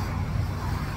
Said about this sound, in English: Sorry about the traffic going by.